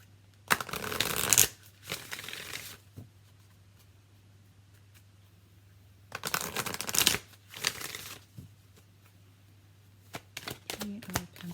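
A deck of oracle cards is shuffled in two bursts of quick riffling and flicking, each about a second or two long, separated by quiet, with a few soft taps and a faint steady hum.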